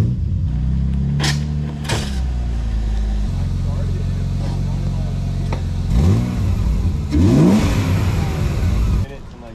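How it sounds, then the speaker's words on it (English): A BMW E36 car engine runs steadily as the car pulls in, with a couple of rising revs toward the end, all continuous and fairly close. "I'm gonna go pull in my car."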